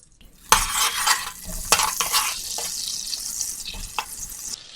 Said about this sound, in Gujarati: દસ થી બાર કળીઓ લસણની એને મીડિયમ ગેસ ઉપર આપણે સરસ શેકાવા દઈએ